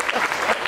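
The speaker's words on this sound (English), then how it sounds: "Take a round of applause to all our volunteers." A round of applause for volunteers at a live hypnosis stage show, a short burst of steady crowd clapping filling the hall, moderately loud and continuous.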